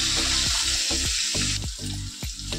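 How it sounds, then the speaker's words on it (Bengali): Tomatoes frying and being stirred in a pan, with a steady sizzle and wet hiss broken by repeated scraping strokes of the spoon, close and fairly loud, with no voices. "টমেটোটা দিয়ে একটু নাড়াচাড়া দিয়ে আমি এর মধ্যে মশলাগুলো সব দিয়ে দেবো"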